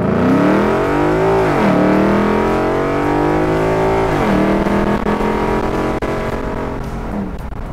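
A loud, deep engine roars as a 1957 Ford Thunderbird with a swapped 5.0 Coyote V8 accelerates hard through several gears, the pitch climbing and dropping with each shift, no voices.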